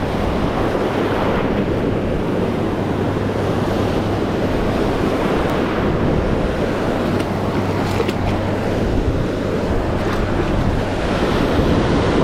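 Small waves breaking steadily on an ocean beach during surf fishing, a constant loud wash of surf and rolling water mixed with wind buffeting the microphone, with no talking.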